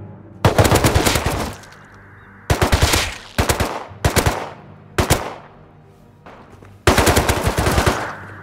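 Bursts of automatic gunfire from the game Rust come in loud, rapid volleys of varying length, separated by short pauses with echoing tails.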